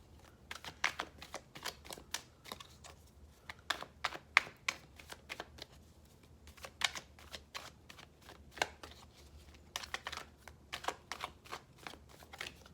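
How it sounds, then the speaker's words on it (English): Rapid riffling bursts of tarot cards being shuffled, coming in several quick flurries with short pauses between, close and fairly quiet; the cards tend to stick together. "Really just trying to shuffle these really well because they stick together so much."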